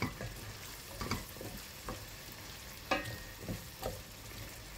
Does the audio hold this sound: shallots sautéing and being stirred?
yes